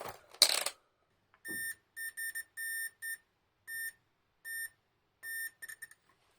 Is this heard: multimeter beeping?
yes